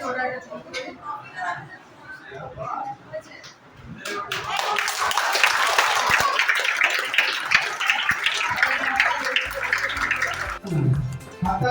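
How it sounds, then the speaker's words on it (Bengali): Audience applause at a school annual prize-giving ceremony, a dense burst of clapping that swells after an announcer's voice and holds steadily for several seconds before cutting off. "হাততালি"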